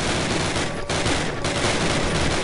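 Call of Duty gunfire, a loud, continuous rattle of rapid shots filling the whole stretch, with two brief dips in the barrage.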